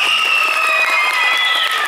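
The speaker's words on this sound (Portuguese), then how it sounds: "Agora palmas para a Gabriele." Steady applause from a crowd at a circus ugliest-man contest in Pingo D'água, Minas Gerais, dense clapping that stays loud and even for the whole stretch, with a faint cheer mixed in.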